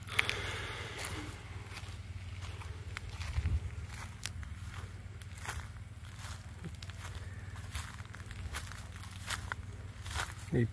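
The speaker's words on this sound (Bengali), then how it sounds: "এই পায়ের মচমচ শব্দ" Footsteps crunch across dry ground in a silent open field at midday, a steady run of soft close crackling steps over a low continuous hum.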